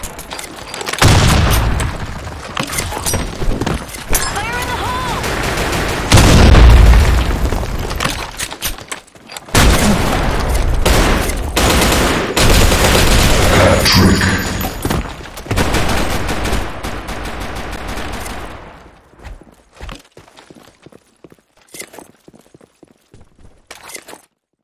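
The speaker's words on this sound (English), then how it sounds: "Grenade! Grenade! Fire in the hole!" Grenade blasts and gunfire fill a Blackshot match, with deep booms and rapid bursts of shots crowding each other loudly, then thinning to scattered pops before fading out.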